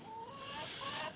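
Chickens on a backyard homestead cluck in a steady, fairly close chorus of short calls outdoors, with no one speaking.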